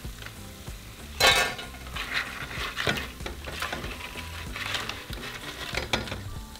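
Tortilla chips lifted out of hot frying oil, with steady sizzling and bubbling, a burst of louder crackle and clinks of a utensil against the pot, continuing at a moderate level throughout.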